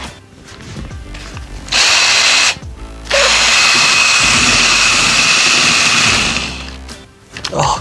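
A power drill churns a can of paint in two long bursts, a brief whir and then a sustained loud spin, close up with short pauses between.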